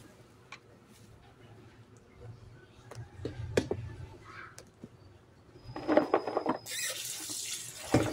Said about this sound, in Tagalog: Natin tong gulay, hugasan lang natin.